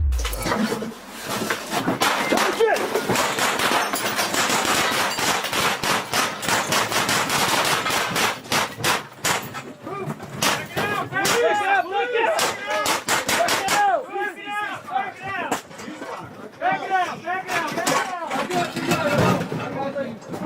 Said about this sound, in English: SWAT officers responded quickly, firing back as they retreated from the garage.